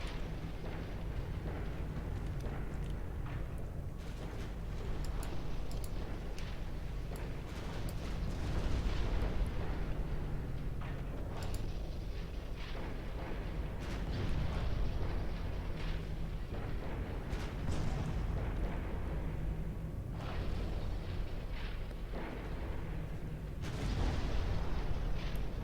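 Naval gunfire and shell explosions in Ultimate Admiral Dreadnoughts, a German fleet battle set in 1920 with heavy cruisers, form a continuous low rumbling barrage of distant booms that swell and fade with no speech.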